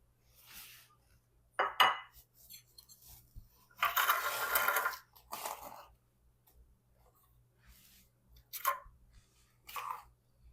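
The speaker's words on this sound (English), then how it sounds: "I'm just going to mix that up. Put this in our muffin tins." Sausage-and-pancake muffin batter is stirred in a bowl and spooned into metal muffin tins, heard as scattered scrapes, a longer stretch of brisk mixing and several clinks of spoon on tin, close up in a quiet kitchen.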